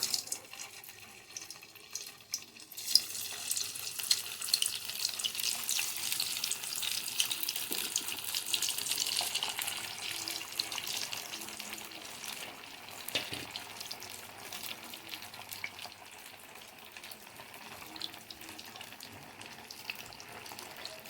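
Sago (sabudana) fritters dropped into hot oil set up a steady hiss of frying that lasts about twenty seconds after a quieter start. The sound is moderate in level and close, and no one talks.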